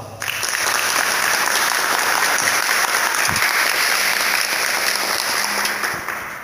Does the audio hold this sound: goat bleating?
no